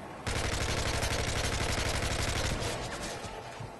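Rapid automatic gunfire from Call of Duty: Modern Warfare 3 gameplay, a loud, dense burst of shots that rattles on continuously for several seconds before easing slightly at the end.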